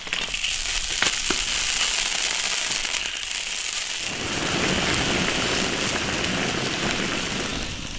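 Tofu cooks in a wok with added water, salt, oyster sauce and soy sauce: some scattered clinks and rustles first, then a dense crackling sizzle that bursts in and keeps going steadily, close and moderately loud.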